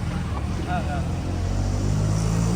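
Steady engine drone of an auto rickshaw on a morning ride in Mumbai, a constant low hum with brief voices and a faint squeak partway through.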